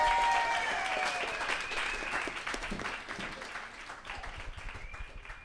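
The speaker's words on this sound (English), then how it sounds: "But please, make some noise for Ian Daniel Keough, everybody." A live audience applauds for a guest on a talk show. A dense burst of clapping starts loud and slowly thins and fades over several seconds.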